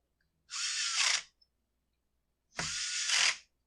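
A power driver tightens the ignition coil screws on a Husqvarna 130/135 Mark II chainsaw in two separate bursts of close whirring, each about a second long, with silence between them.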